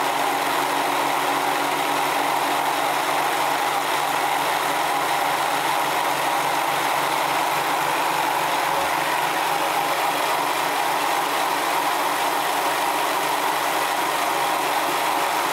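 Rollers of a Searl Effect Generator spinning at roughly 200 RPM, giving a steady, continuous whirring and ratcheting mechanical hum that holds constant with no talking.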